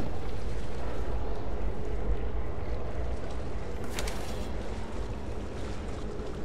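A motorboat in Rise of the Tomb Raider runs as a steady, loud low engine drone with water wash, continuous throughout with no voices.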